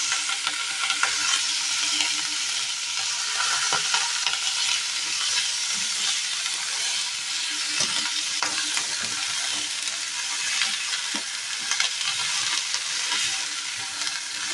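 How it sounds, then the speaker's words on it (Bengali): Cauliflower florets frying in oil with a little salt and turmeric for a Bengali dalna, a steady close sizzle with occasional stirring scrapes, continuous and even, with no talking. "ফুলকপিগুলো আমি হালকা লাল করে ভেজে নেবো এরকমভাবে"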